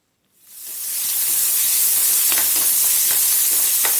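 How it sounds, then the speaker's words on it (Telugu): Cumin seeds and chopped onions drop into hot oil, and a loud, bright sizzle surges up within a moment, then hisses on steadily with small crackling pops. "వేడెక్కే నూనెలో 1 స్పూన్ జీలకర్ర వేసి ఇవి చిట్లుతుంటే తరిగిన ఉల్లిపాయలు కలుపుకోవాలి"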